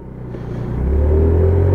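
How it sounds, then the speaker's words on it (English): A Lexmoto Echo motorbike engine on a test ride at around 30 mph, a loud close rumbling drone that swells steadily as the bike pulls away, with no voices over it. "it's a test ride just to show how the bike handles and riding it around at 30 mile an hour"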